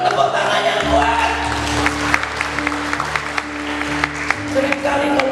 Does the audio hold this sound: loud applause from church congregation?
yes